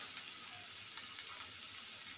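Onions and garlic fry in a pan for chicken stroganoff gravy, giving a faint, steady sizzle with soft crackles and no voices.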